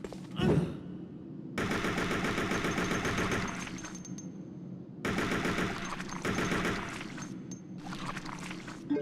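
Bursts of machine gun fire in the survival horror game Resident Evil Code Veronica, two long sustained volleys of rapid shots with a few short follow-up bursts, loud and close with no talking.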